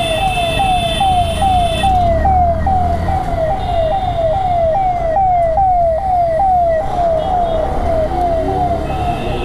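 Ambulance siren wailing loudly and continuously in a steady repeating rising sweep, passing close on a road during an evening motorcycle ride, with traffic rumble underneath.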